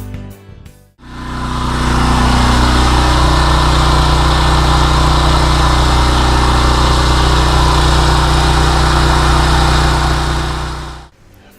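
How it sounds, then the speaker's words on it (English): A portable generator runs close by with a loud, constant engine drone and buzz. It starts abruptly after a second of quiet, holds steady for about ten seconds, then cuts off. "Now let's look at the decibel readings with the generator running"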